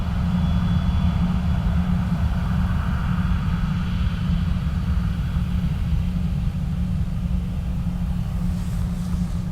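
A VistaJet Embraer jet rumbles steadily at Dublin Airport, a continuous low engine roar at moderate distance lasting throughout, with no voices.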